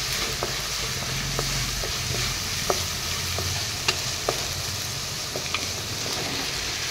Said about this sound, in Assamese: এইখিনি এনেদৰে ভাজিলোঁ